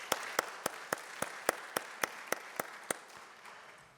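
An audience applauds the organizing committee at the opening session of an international research conference; a steady, evenly spaced run of about a dozen sharp claps carries for three seconds before fading into room tone.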